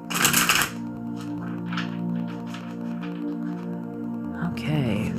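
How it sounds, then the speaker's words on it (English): A tarot deck gets a quick riffle shuffle, with a burst of crisp card flutter at the start, then softer handling under a steady hum and faint background tones. "I'm going to do one more decent shuffle before we pull your cards."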